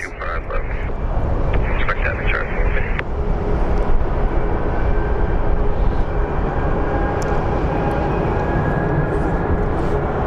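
A Volaris airliner taxies at Phoenix Sky Harbor airport, a steady loud jet engine drone with whining tones, while people talk nearby over the roar.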